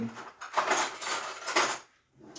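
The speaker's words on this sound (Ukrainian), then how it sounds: "давайте за цей час достанемо ложку" Metal cutlery clinks and rattles in a few quick bursts as a spoon is taken from among utensils, fairly quiet and close.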